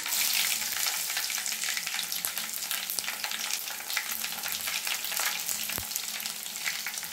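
Mustard seeds and spices crackle and splutter in hot oil for a Telugu drumstick-leaf and toor dal fry, a dense continuous sizzle with scattered sharp pops and a faint stir, close and steady, with no voices.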